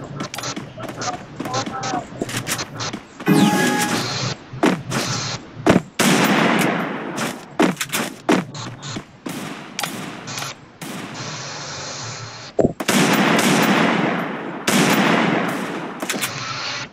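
Rapid bursts of gunfire from the Free Fire battle-royale game, loud and close, arriving in clustered volleys with brief gaps between them, while a voice talks over much of the action.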